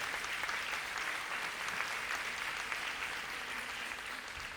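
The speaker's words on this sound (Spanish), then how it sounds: "Dale un fuerte aplauso al Señor." A church congregation claps steadily for the Lord during a Spanish-language service, a dense even roar of many hands that keeps a constant level throughout.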